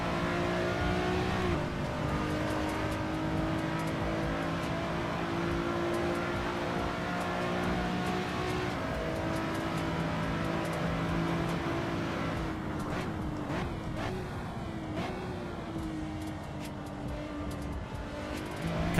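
Race car engine from the Assetto Corsa racing game, droning steadily with rising and falling revs and gear changes throughout, loud and continuous with no talk over it.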